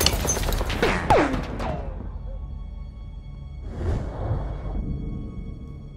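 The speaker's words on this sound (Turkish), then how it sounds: "Bomba atıyorum. Dikkat et." In Battlefield 1, a thrown bomb lands and explodes. A sharp crash is followed by a fading rumble, then a second muffled blast, all over a constant low background roar.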